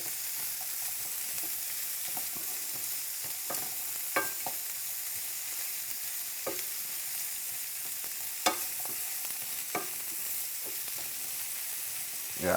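Green and yellow peppers fry in a pan with a constant bright sizzle, while a utensil stirs and scrapes in occasional short clicks and taps over the hiss.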